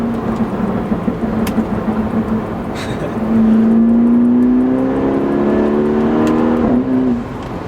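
A BMW F30 four-cylinder car engine revs and accelerates hard, its tone climbing steadily in pitch over several seconds before easing off, loud and close with no talk over it.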